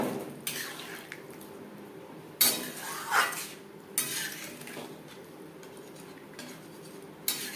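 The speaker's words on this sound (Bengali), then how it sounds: "আরও 2-3 মিনিট নাড়াচাড়া করে নেওয়ার পর দিয়ে দেবো জল" Spice paste stirred in a pan for a Bengali katla fish curry with gathi kochu (taro), a spoon scraping and clinking against the metal in irregular strokes over a soft background sizzle, close and with no talk.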